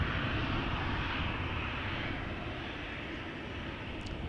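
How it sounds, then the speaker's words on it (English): KLM jet airliner on flight 1269 to Copenhagen at Amsterdam Schiphol Airport, a broad rumbling engine roar held steady and then easing slightly as it carries on, with no voices. "Big jets are coming. This is KLM Flight 1269 to Copenhagen."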